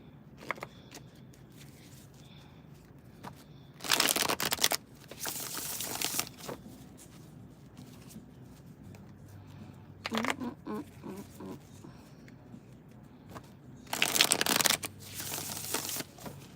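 Playing cards are shuffled in several quick bursts of riffling and rustling, separated by quiet pauses, close up.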